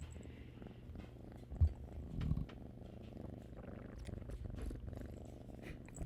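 A pet cat purrs close to the microphone, a quiet, low, continuous rumble with a couple of brief soft bumps partway through.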